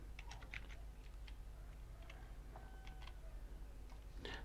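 Someone types a password on a computer keyboard, a quick string of soft, close key clicks over a faint steady hum in a quiet room.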